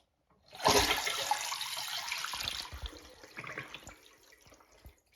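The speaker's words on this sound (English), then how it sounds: "So I'm gonna flush, see if the flapper stays open, and this will essentially be a dry bowl flush." A toilet flushes with its flapper stuck open into a dry bowl, a loud rush of water that fades into steady trickling and dripping, close by and with no voices.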